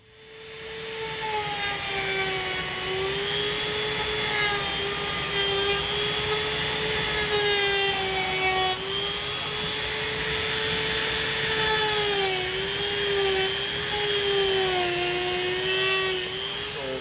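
A saw or cutting tool works steadily along the built seam of a carburetor breather form, giving a continuous close grinding whine with a wavering pitch that runs unbroken throughout.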